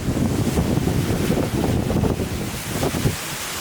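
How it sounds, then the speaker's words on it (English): Fast river water rushes against a boat travelling upstream in the Bolivian Amazon, a loud steady wash mixed with gusty wind buffeting close by. "We're now going against the river. It's pretty fast flowing"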